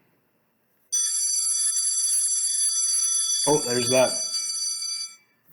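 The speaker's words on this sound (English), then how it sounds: "bell interrupting me again" A bright electric bell rings continuously for about four seconds and then cuts off. A person speaks briefly over the middle of the ringing.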